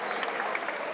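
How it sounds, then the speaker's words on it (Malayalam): An audience at a talk for children bursts into a brief round of steady, dense clapping, moderately loud and continuous throughout. "ഇതാ ഒരു ക്ലാപ്പ് കൊടുത്തേ"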